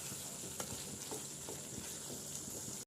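Dried chillies fry in a hot pan for a shrimp roast, a steady broadband sizzle running the whole time with a few soft clicks from stirring and no voices.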